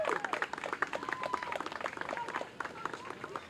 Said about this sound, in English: So let's give a round of applause, an investment here in our neighborhood.